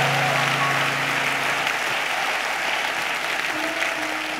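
A church congregation applauds and cheers God during a worship service, loud sustained clapping with a murmur of voices underneath, continuous for several seconds at close range.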